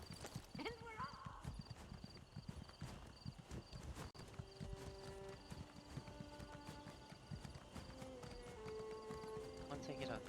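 Horse hooves clip-clop steadily in Elder Scrolls Online as a mount sets off down a road, continuous game footsteps running under an occasional voice talking over the gameplay.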